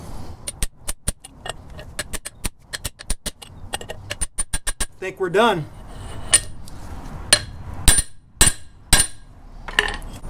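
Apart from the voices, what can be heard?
ball peen hammer driving press sleeve on front axle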